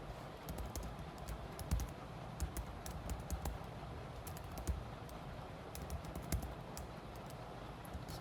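Steady clicking of keys on a computer keyboard while JavaScript code is written for a countdown timer, with close, continuous keystrokes in irregular bursts and no talk.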